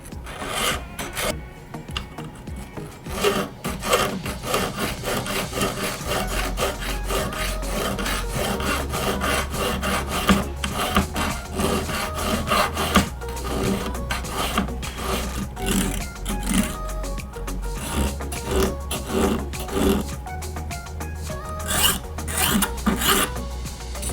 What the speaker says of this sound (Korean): 이렇게 큰 줄이 있는데 이건 평줄이라고 하거든요. 그래서 일단 먼저 거친 줄로